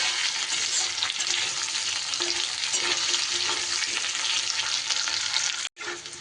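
Vegetables get stirred in hot oil in a pan for a vegetarian dish, producing a loud, continuous sizzle with scraping stirring strokes throughout and a brief cut near the end.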